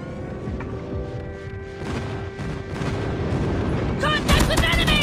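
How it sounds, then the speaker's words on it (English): Airstrike explosions and gunfire in the mobile shooter Call of Duty Mobile, a dense continuous barrage of booms and shots that grows louder and heavier toward the end, with game voice callouts over it. "Airstrike is ready. Lee airstrike incoming."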